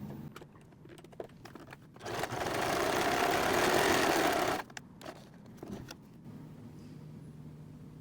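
A sewing machine runs a zigzag stitch along a seam in one continuous burst of about two and a half seconds, framed by quieter handling clicks and rustles before and after.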